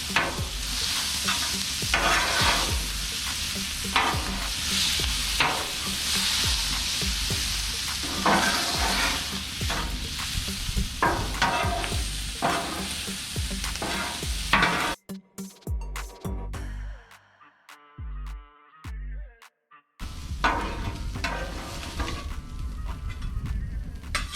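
Sausage and potatoes sizzle loudly on a Char-Griller flat iron griddle while a spatula scrapes and tosses them in a fast, repeated rhythm; the sizzle briefly drops away for a few seconds before returning full.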